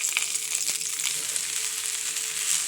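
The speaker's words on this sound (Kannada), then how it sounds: "ಬೆಂಡೆಕಾಯಿ ಫ್ರೈಗೆ ಎಣ್ಣೆ ಕಾಯೋದಕ್ಕೆ ಇಟ್ಟಿದ್ದೀನಿ. ಸಾಸಿವೆ ಜೀರಿಗೆ ಹಾಕೋಣ ನೋಡಿ." Mustard and cumin seeds with curry leaves sizzling and popping in hot oil for an okra fry, a bright continuous crackle with a few sharp pops, close and steady, no talking.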